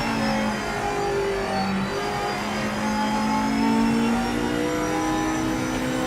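A hypercar engine in a racing video game revs hard on track, a loud continuous drone with pitch rising and sliding through gears, no voices.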